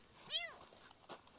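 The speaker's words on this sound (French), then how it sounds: "Un tout petit chat, oh, il est trop chou." A tiny kitten gives a single thin, high meow, close but faint, followed by a soft brief squeak.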